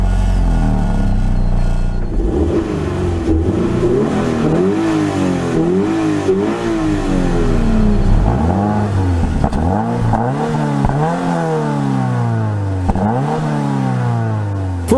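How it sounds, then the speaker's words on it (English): Toyota 86 with its Subaru-sourced horizontally opposed 4-cylinder engine revving up and down repeatedly, loud and close, rising and falling engine pitch alone without talk. "this Subaru-sourced horizontally opposed 4-cylinder puts out just over 205 horsepower"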